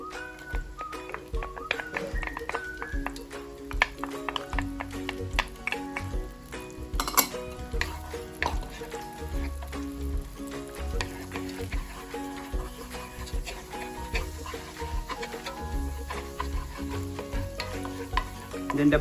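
Garlic sizzles in melted butter in a pan while being stirred, a constant crackling fry with clinks and taps of a utensil against the pan, close and busy, with some faint background sound.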